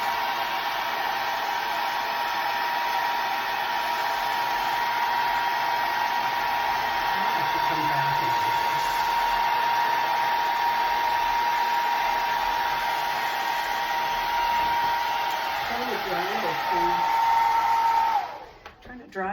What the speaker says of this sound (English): Trying to dry this thing as fast as I can so I can put the resin on it.